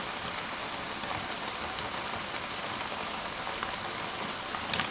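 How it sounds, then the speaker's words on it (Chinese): Flour-dough snacks deep-frying in hot oil over medium heat, a steady, dense bubbling hiss that holds evenly throughout with no voices. "全程开中火慢炸，防止一下炸糊。"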